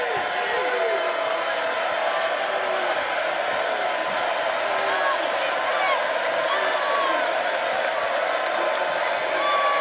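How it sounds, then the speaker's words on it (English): A crowd at Reed Arena fills a college basketball game against Texas A&M with a dense, constant roar and scattered whoops, while a commentator talks over it steadily. "Crowd getting a little bit louder here at Reed Arena"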